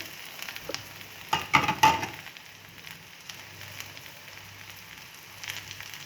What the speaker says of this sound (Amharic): ጥቅል ጎመናችንን ትንሽ ጠበስ ብሎልናል።